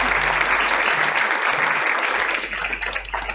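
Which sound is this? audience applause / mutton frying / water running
audience applause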